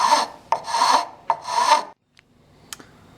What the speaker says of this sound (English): We're going to take a really, really coarse file, like a rasp, and just sit there